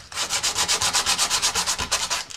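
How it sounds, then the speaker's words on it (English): A fiberglass rocket motor mount is scuffed by hand with abrasive, giving a fast, even back-and-forth rasping of about sixteen close, loud strokes with no talk. "scuff the entire outside of this motor mount, as well as the centering rings"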